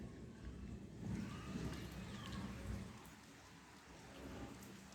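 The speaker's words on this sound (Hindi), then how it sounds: "बादल गरजने की आवाज़ भी आती होगी क्योंकि बारिश हो रही है" Steady rain patters down across a broad hiss, with soft low rumbles that may be far-off thunder; no voices.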